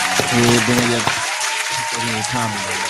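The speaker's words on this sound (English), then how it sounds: "Give it a round of applause for that, though, bro." A small group claps in a podcast setting, brisk applause mixed with talking voices over it, moderately close and lasting most of the few seconds.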